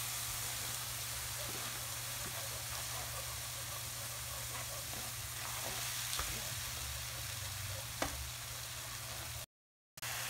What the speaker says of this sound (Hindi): तो इसको अच्छे से भून लेंगे, साथ में हम लहसुन भी इसी में ऐड कर देंगे, लहसुन का पेस्ट, और इसको साथ में भून लेंगे।